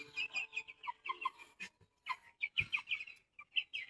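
Native desi chickens cluck and chirp in quick, irregular bursts near by, a busy scatter of short calls with a few sharper notes and no voices.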